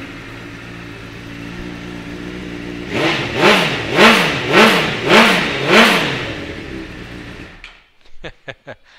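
A 2008 Honda CBR1000RR Fireblade motorcycle starting up and idling, then five loud rhythmic revs rising and falling, close and alone, ending with a few sharp blips after the engine cuts.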